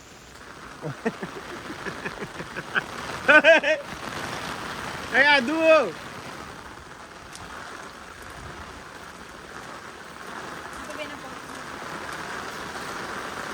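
Heavy monsoon rain pours in a constant broad hiss around the listener, while excited voices shout and call out over it in a few loud bursts.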